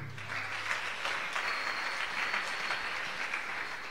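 Applause from a church congregation during a Swahili Easter sermon, a steady wash of many hands clapping at moderate distance, fairly soft and continuous throughout with a faint low hum underneath.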